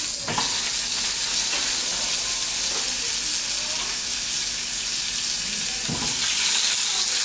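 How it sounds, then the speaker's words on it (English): Sausage patties fry in olive oil in a pan, giving a steady, close sizzle and crackle that runs unbroken throughout with no voices. "I'm gonna add some more olive oil because I'm gonna cook the second batch of patties"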